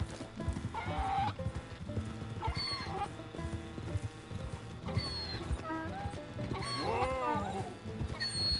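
A striped mule gallops in Red Dead Redemption II, its hoofbeats a steady clip-clop mixed under continuous game music and ambient sound, with a whinny-like tone partway through.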